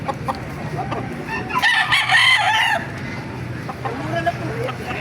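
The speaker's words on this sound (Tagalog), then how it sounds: "Ganda ng mga manok." A rooster crows loudly and close by amid background clucking and chatter at a chicken market in Baliuag, Bulacan, with softer calls from other fowl around it.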